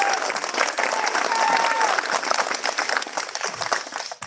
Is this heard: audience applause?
yes